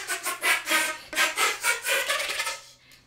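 Rhythmic breathy, raspy strokes pulse about twice a second from a flute played with a percussive extended technique, sounding close and fairly quiet before fading out.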